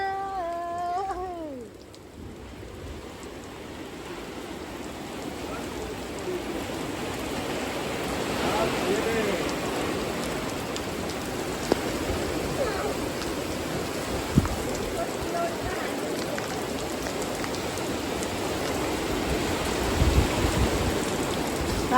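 Heavy rain with strong wind, a steady dense hiss of downpour that swells gradually louder, with a few brief knocks and a faint voice near the start.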